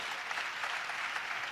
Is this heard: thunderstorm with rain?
no